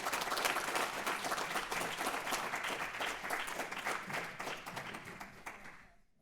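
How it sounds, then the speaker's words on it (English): A crowd applauds with dense, steady clapping that stays loud for several seconds, then fades out quickly at the end. "let's have a round of applause"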